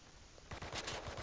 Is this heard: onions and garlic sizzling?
no